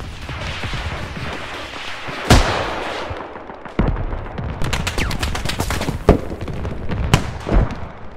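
Rocket impacts in the Squad Middle East Escalation mod: several sharp explosive blasts and crackling bursts land over a rumbling battlefield backdrop, with a dense cluster of rapid bangs in the middle and heavier thumps spaced through the rest.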